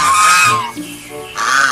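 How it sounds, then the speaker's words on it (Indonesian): Loud goose honks, one near call, a brief lull, then another honk, with no speech over them. "hewan angsa"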